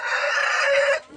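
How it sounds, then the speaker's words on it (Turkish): Rooster crowing in a crowded coop, one loud close crow held for about a second before cutting off, with faint background noise after. "Doldurdum buraya horozları anne, yumurta bekliyoruz."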